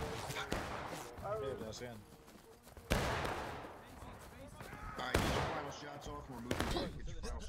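Artillery shells and musket fire in the Civil War game War of Rights: several loud booming impacts with crackling gunfire in between, under excited voices talking.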